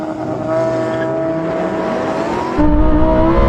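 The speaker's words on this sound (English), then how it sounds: "I just hold the brake and then just floor the throttle." A Lamborghini STO launches at full throttle in a drag race, its loud engine note climbing steadily in pitch, then dropping and surging again as it shifts up, close and steady with no talk.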